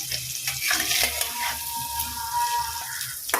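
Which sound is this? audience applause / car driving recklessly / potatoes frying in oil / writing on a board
potatoes frying in oil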